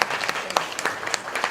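Sustained applause from an audience at a youth unification debate final, with dense, steady clapping throughout.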